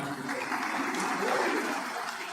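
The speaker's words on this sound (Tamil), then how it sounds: "ஐயாவுக்கு மிகப்பெரிய கைத்தட்டல்." Audience applause fills a social activists' protection conference hall in Vellore, a steady dense wash of clapping holding at even loudness throughout without voices on top.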